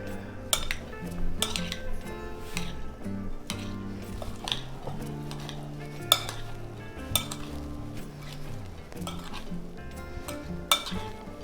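Aloo channa chaat ingredients being mixed in a bowl with a spoon: repeated scraping and stirring with sharp metallic clinks at irregular intervals, fairly close, with no talking.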